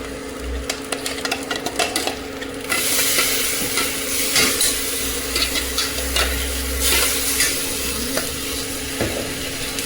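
Steady sizzling of masala with tomato paste frying in a pan, with a spoon scraping and stirring in irregular strokes throughout.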